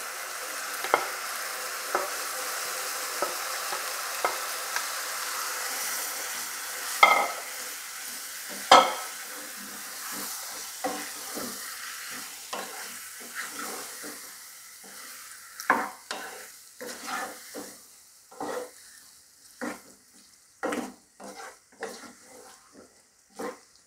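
Pineapple pieces fry and get stirred in a pan with green chillies for a sweet pineapple pickle. There is a soft steady sizzle with repeated close scraping strokes of the spoon, and the stirring grows more frequent toward the end.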